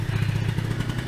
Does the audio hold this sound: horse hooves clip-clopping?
no